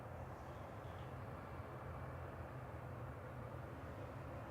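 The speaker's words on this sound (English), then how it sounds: "Oh, it's an Air France E190." Air France Embraer E190 airliner at Manchester Airport, a steady loud engine roar with broadband rumble held evenly throughout, no voices.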